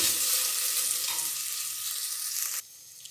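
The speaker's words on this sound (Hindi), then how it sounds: "इसे आपने 3 मिनट फ्राई करना है अच्छी तरह।" Ingredients for chicken soup frying in a pan, a close, steady hiss and sizzle that cuts down sharply near the end.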